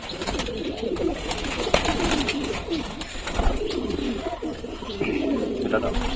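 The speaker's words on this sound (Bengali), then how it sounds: "নর্মাল ম্যাড্রাস পায়রা শখ করাবে প্রথমে আমাদেরকে।" Male Madras pigeons in a loft keep up a steady, overlapping cooing nearby, and a person talks over the birds.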